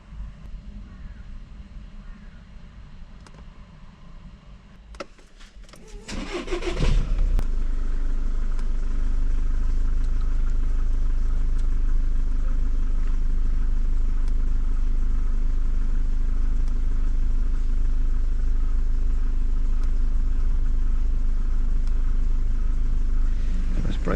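A Skoda Octavia Mk3's engine starts after a heater matrix change, with quieter background noise and a brief burst of clatter first, then a steady, close idle rumble that continues evenly to the end.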